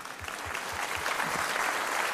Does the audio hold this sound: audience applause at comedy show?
yes